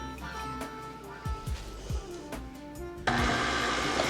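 An electric mixer churns flour into sugar cookie dough, starting with a low hum and a few bumpy knocks, then rising into a loud, steady whir as the speed climbs.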